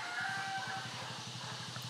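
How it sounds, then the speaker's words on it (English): A phone alarm plays a rooster-crow ringtone, with repeated clucking pulses and a crowing call over steady background noise at moderate volume. "Oops, that's my alarm."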